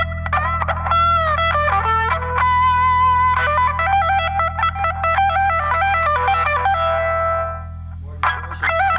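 An electric guitar plays through an OD200 overdrive distortion pedal at a light gain setting, giving a lively run of sustained, gritty notes and chords that ring close and loud before a brief fade and a final strum.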